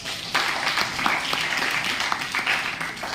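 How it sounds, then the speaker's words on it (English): A workshop audience applauds a participant with a steady, dense patter of many hands clapping, moderately loud and sustained throughout. "clap for Sandhya, guys"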